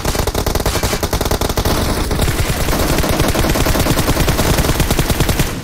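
Rapid automatic gunfire from PUBG Mobile rattles loud and continuous, dense bursts of shots running almost without pause through the whole stretch, close and heavy.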